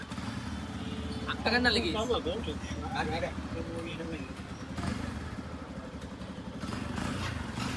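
A motorcycle engine runs steadily throughout while being ridden, with a continuous loud drone and clattering mechanical texture, and a person talks over it.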